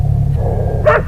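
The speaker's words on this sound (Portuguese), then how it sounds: "considerar os latidos e rosnados quando a lanterna tá ligada" A short, sharp dog bark from the Enigma do Medo ARG bursts out near the end over a low rumbling drone, loud and close.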